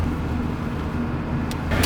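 Steady road and engine rumble from a car going by on a road, a continuous moderate drone with a brief whooshing rise near the end.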